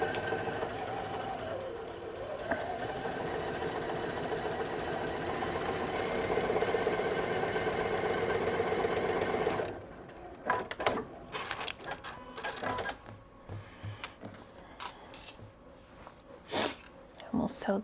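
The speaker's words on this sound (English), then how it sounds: "I'm sewing on a Juki, and the machine that Quilt Husband uses is a Juki." A Juki semi-industrial sewing machine stitches quilt blocks in a steady, dense run for about ten seconds, then stops, leaving quieter handling noises and scattered clicks.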